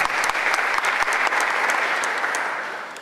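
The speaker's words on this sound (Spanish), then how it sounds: "Fuertes aplausos, por favor." A presentation audience applauds the mayor of Miraflores as he takes the stage, with steady, dense clapping close by that gradually fades toward the end.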